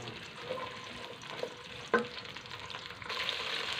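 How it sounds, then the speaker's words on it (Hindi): Okra (bhindi) fries in hot oil, a steady crackling sizzle with a sharp clink of a utensil midway and the frying growing louder near the end, with no one speaking. "और भिंडी हमने शामिल कर दी है। भिंडी को हम तकरीबन थोड़ा सा फ्राई करेंगे।"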